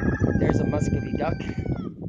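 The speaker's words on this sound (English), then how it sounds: "There's a muscovy duck." Farmyard fowl calls from a Muscovy duck on a permaculture farm, several short hoarse squawks and clucks in quick succession over a busy background of other animals, fairly close.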